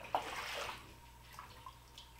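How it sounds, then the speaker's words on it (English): Water rising up through an old basement drain into a spreading pool. It makes a faint rushing, gurgling wash that swells briefly and then fades into quieter trickles, with no speech. "I believe the water is just coming up through this drain"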